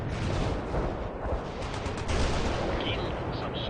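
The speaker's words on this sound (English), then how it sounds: "Fire mission confirmed. Bombard the target forward." Sustained rumble of artillery bombardment from the World in Conflict game, dense booming and crackling gunfire running continuously through the span at steady loudness, with faint radio-style voices layered in.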